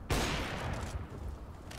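A sharp burst of gunfire in Counter-Strike: Global Offensive erupts loudly, then rolls into a dense, echoing tail of shots and reverberation.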